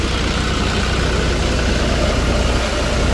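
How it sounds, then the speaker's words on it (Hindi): A 63 HP John Deere 5405 tractor drives a Vijay thresher at about 1100 RPM while threshing dry Pusa Manav chickpeas, a loud, steady, close engine drone with constant mechanical whir and no breaks. "ये 11 के RPM पे लगभग थ्रेसर चल रहा है, 1100 RPM पर।"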